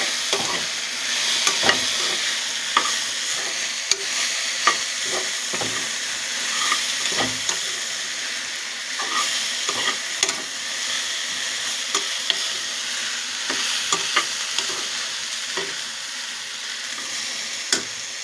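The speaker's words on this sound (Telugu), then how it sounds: "ఫ్రై దగ్గర పడింది, చూడండి." A curry fry sizzles loudly in a pan while being stirred, with a constant close hiss broken by repeated scraping knocks of the spoon against the pan at an irregular pace, and no voices.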